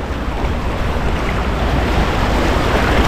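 Wind and surf roar continuously on a beach where fishermen net near shore, a dense, steady wash of breaking waves and gusting wind buffeting the microphone.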